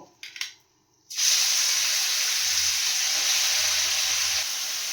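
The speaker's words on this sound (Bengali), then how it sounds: "আমি পেঁয়াজ আর টমেটোটা ভেজে নেব।" Sliced onion and tomato hit hot oil in a pan after a brief clink, bursting into a loud, steady sizzle and spatter that holds for several seconds without talk.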